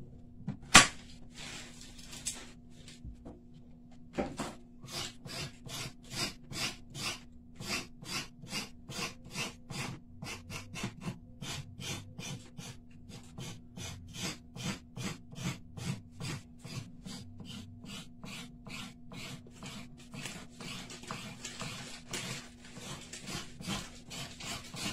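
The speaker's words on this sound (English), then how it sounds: "so I scrape off the little, dirty part of the carrot" A knife blade scraping the dirty skin off a carrot before juicing, a steady run of short rasping strokes close up and evenly paced, with a low hum underneath.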